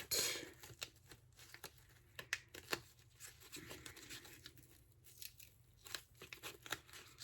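A sticker peeled slowly and carefully from its backing sheet, a soft papery tearing and crinkling broken by several sharp little snaps, close and quiet with no voices.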